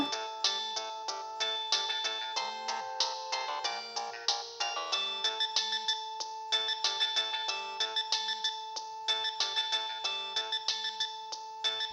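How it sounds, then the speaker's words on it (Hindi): A phone ringtone plays a bright, repeating melodic jingle, steady and fairly clear, with no voices over it. "फोन आ रहा है तुम्हारा।"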